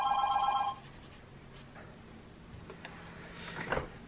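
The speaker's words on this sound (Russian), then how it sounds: "то что зазвонил телефон" A telephone rings briefly in a quiet room where someone is painting a watercolour sketch, a bright warbling trill in the first half second, then low room noise with faint small taps.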